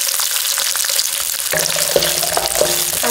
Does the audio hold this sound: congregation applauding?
no